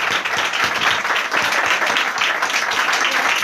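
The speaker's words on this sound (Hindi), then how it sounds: "पाक रूह के लिए जोरदार तालियां, जिंदगी बख्शने के लिए जोरदार तालियां" A church congregation applauds during a worship service, a steady, loud, dense clapping that fills the whole stretch without a break.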